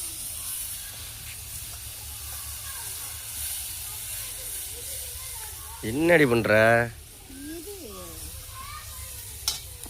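Onions sautéing in a pan for a Tamil squid curry give a steady, low sizzling hiss throughout, while a voice speaks and calls out briefly over it near the middle.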